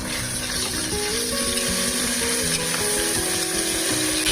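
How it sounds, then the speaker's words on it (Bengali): Chopped onions fry in a pan with a steady, dense sizzle that runs unbroken throughout, close and fairly loud, with faint tonal hums in the background. "আর এই পেঁয়াজ কুচিগুলো এখন হালকা করে ফ্রাই করে নেব"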